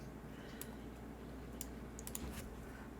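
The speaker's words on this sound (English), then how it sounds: "We'll just do a quick typing test for you guys to hear." Typing on a Freebird60 keyboard with lubed switches and PBT Notion keycaps, soft, faint keystrokes in a sparse, irregular rhythm over a low background hum.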